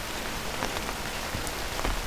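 Steady, gentle rain patters on a taut fabric umbrella overhead, a dense soft hiss of close drops with a few slightly louder taps scattered through it.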